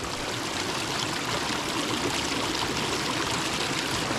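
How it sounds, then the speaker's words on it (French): A salt-water spring in the Aude trickling and splashing steadily, a continuous close, bright rush of running water with no pauses. "Voilà, la source est là."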